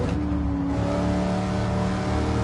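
A Pontiac Firebird Trans Am's V8, apparently an LS1, revs steadily in Gran Turismo 7 on the Nordschleife, a constant loud engine drone holding its pitch throughout with no voices.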